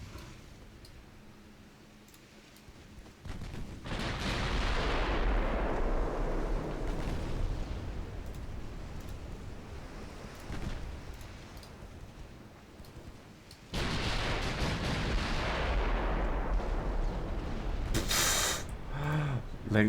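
Fifteen-inch naval shells fire and strike warships in a naval war game, two loud booming blasts each trailing into a long rumbling decay, with no voices over them.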